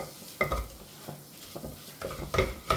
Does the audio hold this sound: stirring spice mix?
yes